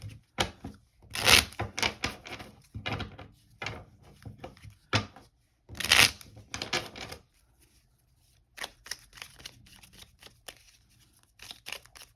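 Crisp riffling and shuffling bursts of tarot cards come in several quick rounds, close and fairly loud, with short pauses between them and no voices.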